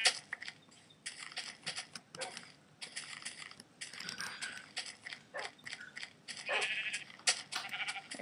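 Sheep in the Minecraft video game bleat repeatedly in short bursts, close and loud, with a few crunchy chewing sounds mixed in and no talking.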